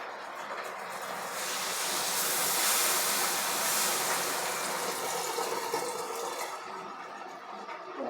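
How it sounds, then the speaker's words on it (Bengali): Water poured into thick, fried ghugni masala in a pan: a steady broadband rush and hiss that swells to its loudest midway, then tapers off, heard alone without any talk. "এর মধ্যে দিয়ে দেবো পরিমাণ মতো জল।"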